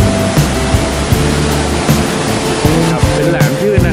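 Strong waves surging in at Tanah Lot on the Bali coast with a rising tide, a loud continuous roar of surf with repeated crashing swells, close by and filling the scene.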